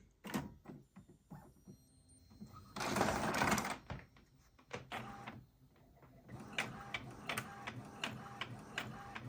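Office printer running off a copy while powered from a BLUETTI EB70 charging station: rhythmic mechanical whirring and clicking, with a loud feed burst in the middle and repeated ticks toward the end, heard close up.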